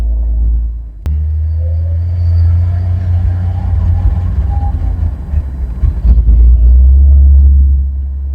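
A 1980s Ford Fairlane EFI engine running with raised fuel pressure: a loud, steady low rumble close by, with a sharp click early on and the engine note swelling and growing rougher near the end.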